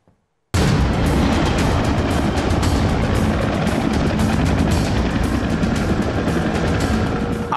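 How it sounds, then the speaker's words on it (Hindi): Two Indian Navy Advanced Light Helicopter Dhruv helicopters arrive overhead, a loud, dense roar that starts abruptly and holds steady throughout, with no speech. "आसमान में गड़गड़ाते हुए दो हेलीकॉप्टर आते हैं।"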